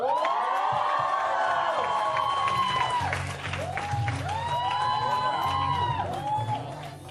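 An audience at a Teachers Day celebration greets a teacher with loud, sustained applause, whistles and whooping cheers that carry on throughout without a break.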